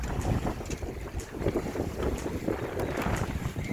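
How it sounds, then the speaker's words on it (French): A gust of wind buffets the open deck of a First 22 sailboat out on the ocean, a steady rushing roar with rumbling low-end microphone buffeting and water wash throughout, no voices. "Petite rafale qui passe."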